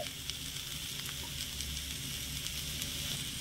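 Garlic cloves and green chillies sizzle in hot oil in a pan, a steady close crackling hiss with small pops throughout and no talking.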